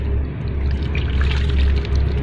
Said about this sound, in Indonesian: Ini akan lebih baik jika kita menyiramnya memakai gembor.